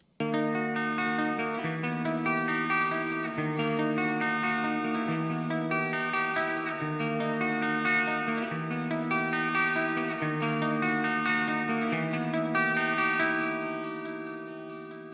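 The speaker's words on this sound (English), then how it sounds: "So let's just start with a clean tone." A clean guitar tone through the Aurora DSP Laboga Diamond Sound plugin plays sustained ringing notes with delay and reverb trails. It is played alone at an even level and fades out gently at the end.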